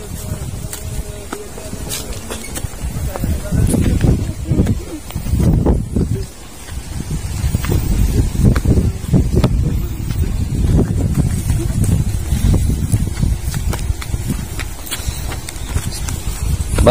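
Strong wind gusts across a seaside salt farm in the provinces, a heavy low buffeting rumble on the microphone that rises and dips for the whole stretch.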